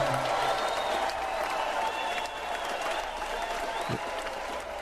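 An audience applauds steadily at a political event, a continuous broad wash of clapping that slowly thins toward the end.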